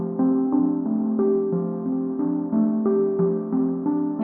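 A microKORG 2 synthesizer patch holds a steady layered tone with stepping pitch changes, a subtle light noise layer woven in, sustained and even without pauses.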